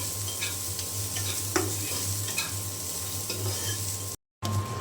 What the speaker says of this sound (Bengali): আমি পেঁয়াজটা খুব বেশি কড়া করে ভাজবো না, একটু নরম নরমই নামিয়ে নেব